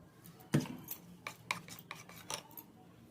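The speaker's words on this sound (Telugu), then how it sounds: "ఇప్పుడు దీన్ని ఒకసారి మిక్స్ చేసుకుందాం" Aloe vera gel being stirred into a homemade soap base, a quiet scraping and rubbing of a utensil against a bowl in a few soft, uneven strokes with one sharper knock near the start, close and faint, with no talking.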